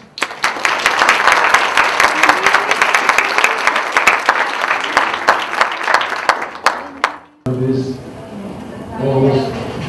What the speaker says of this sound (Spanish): magistrado Salvador Cantero Aguilar, no sin antes recibirlo con un caluroso aplauso